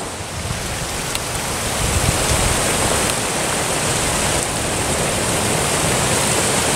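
A tall waterfall plunges over a sheer sea cliff from forest above, heard as a steady, dense roar of falling water that stays loud and even throughout, with no voices.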